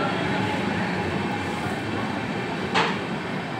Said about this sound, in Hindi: उधमपुर से चलकर प्रयागराज जाने वाली एक्सप्रेस ट्रेन आ रही है प्लेटफॉर्म नंबर 3 पर